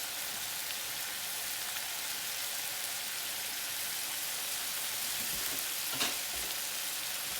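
Scallops with lemon sear in a hot pan, giving a continuous, even sizzle like light rain, close and alone, with a faint clink of utensils toward the end.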